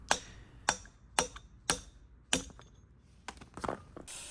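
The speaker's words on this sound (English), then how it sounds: "Finish hammering out the old stud." Hammer blows driving an old wheel stud out of a Toyota 80 Series Land Cruiser front hub: about seven sharp metallic strikes at uneven intervals, close and fairly loud, with the later hits coming faster together.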